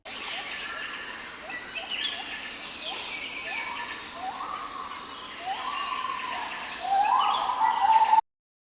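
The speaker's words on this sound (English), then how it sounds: "Doves." Doves coo in a series of rising, swooping tonal calls, moderately loud and close, over a bed of busy bird chatter that grows louder toward the end.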